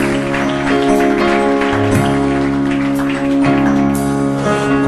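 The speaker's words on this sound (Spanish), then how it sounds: "Dale palmas al Espíritu Santo de Dios" A church congregation claps for the Holy Spirit during a worship service, steady applause blended with sustained organ-like music tones, loud and continuous throughout.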